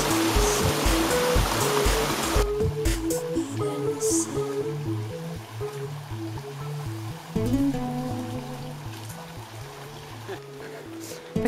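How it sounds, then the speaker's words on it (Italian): Arenile waterfall near Cerveteri, outside Rome, with fairly deep water: a continuous rushing roar that is loudest at first, then settles into a steady wash while people talk over it. "queste sono le cascate dell'Arenile."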